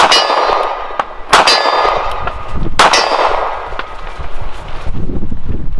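Shots from a CZ P-10 M pistol ring a steel silhouette target far off, giving three sharp metallic clangs about 1.4 seconds apart, each with a bright ringing tail, over faint outdoor background noise.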